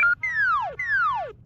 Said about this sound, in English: So it takes the audio file and it flips it backwards and it sounds like this.